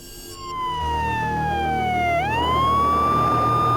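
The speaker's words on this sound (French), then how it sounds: "Une ambulance amène une patiente à l'hôpital." A loud wailing ambulance siren sweeps down in pitch and then rises again, steady and close, with a low vehicle rumble underneath, in the Republic of Dagestan, Russia.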